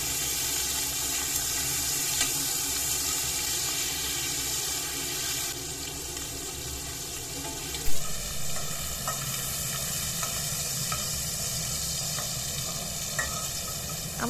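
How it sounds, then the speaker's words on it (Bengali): Prawns coated in salt and turmeric fry gently in mustard oil in a wok, a steady close sizzle running throughout, with a brief clatter of stirring near the middle and occasional spatter pops. "কড়াইতে সর্ষের তেল দিয়ে লবণ হলুদ দিয়ে মেখে রাখা চিংড়িগুলোকে হালকা ভেজে নেব"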